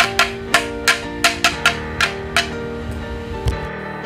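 A classic guacharaca scraper plays crisp, evenly spaced strokes about three per second in a traditional Colombian music piece, sitting clearly above the accompanying tones.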